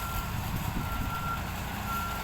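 A ten-wheeler truck backing up sounds a steady electronic reversing beep over a continuous engine rumble, fairly close and loud, with no speech.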